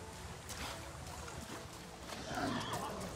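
A horse-like creature in Avatar: Frontiers of Pandora gives a faint whinny amid soft ambient game sound, quiet and brief toward the end.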